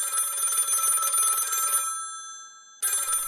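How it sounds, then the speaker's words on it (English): An old telephone bell rings in a shrill metallic trill, one long burst, then a brief gap before it starts again, clear and close. "The telephone rang."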